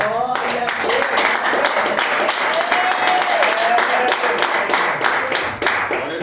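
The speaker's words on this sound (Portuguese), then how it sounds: "as palmas são bem alegres para Jesus." A church congregation claps in a steady, rhythmic beat that is loud and close, while voices and singing carry on over the clapping.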